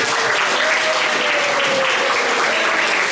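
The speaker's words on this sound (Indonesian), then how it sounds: "Yuk kita beri aplaus untuk Kojan." Classroom applause for a student's presentation fills the room, a dense, steady patter of many hands clapping at once, loud and sustained throughout with no pauses.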